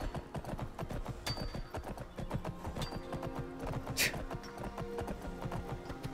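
Horse hooves clip-clop steadily and close by in Skyrim, a quick rhythmic trot with a brief neigh or whinny and ambient game sounds layered underneath.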